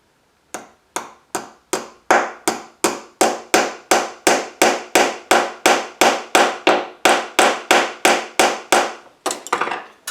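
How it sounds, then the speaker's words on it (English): Sharp metallic hammer blows strike rivets in a steady, rapid rhythm, about twenty-five loud close hits in a row with no talking. "Right, and hammer it down."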